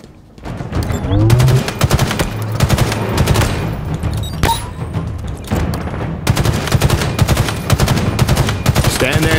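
Rapid automatic gunfire rattles through a Halo Infinite campaign firefight, dense bursts of shots firing nearly continuously with sharp impacts and a deep rumbling bed underneath, loud and close, with a voice speaking over the battle.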